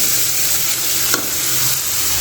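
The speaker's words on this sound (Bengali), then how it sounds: "মশলাটা একটু কষতে হবে।" Spice paste stir-fried in oil for a chicken and potato curry, a loud continuous sizzle close to the pan with one brief scrape of a spoon midway, no talking over it.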